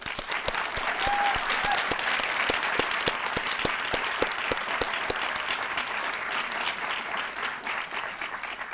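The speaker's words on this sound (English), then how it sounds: "let's please give a big round of applause for all our supporters and sponsors" A large audience applauds at a coding program demo day, sustained dense clapping with a few sharp distinct claps, no talking.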